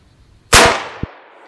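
A Mosin-Nagant rifle fires a 7.62x54r round into body armor: one loud, sharp close crack followed by a decaying outdoor tail, with a brief second impact knock shortly after.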